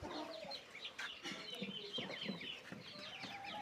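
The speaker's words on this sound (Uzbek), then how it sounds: "Bu tovuq cho'jalarimiz o'rdaklar ochgan." Week-old chicken chicks hatched by ducks cheep in high, rapid, overlapping peeps, with a few soft clucks from nearby fowl, fairly quiet and close.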